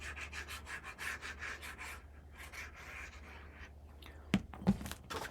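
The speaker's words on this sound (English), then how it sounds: "I'll burnish, and then I'll open this up and burnish again" A tool burnishes paper for a Disney-inspired 7x7 scrapbook mini album, making quick rhythmic rubbing strokes that start brisk, slow and fade, ending with two sharp taps.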